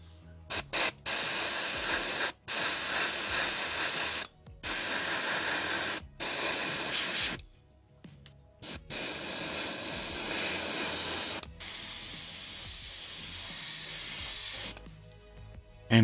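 Black-green paint is sprayed onto the underside of an SU-76M scale model in repeated hissing bursts, each lasting one to a few seconds, separated by short silent gaps, close and loud.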